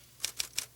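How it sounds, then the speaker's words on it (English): Three crisp typewriter key strikes in an even rhythm, close and clear, each a sharp bright clack in a quiet room. "when it comes to typing book reports, old George here can really fly"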